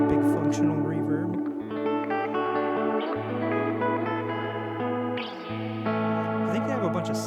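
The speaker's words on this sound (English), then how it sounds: "And then you have your big F reverb." An electric guitar runs through a Walrus Audio Mako Series R1 high-fidelity reverb pedal on its big F reverb setting: sustained chords and single notes bloom into long, shimmering tails that blend into one another over a steady low drone.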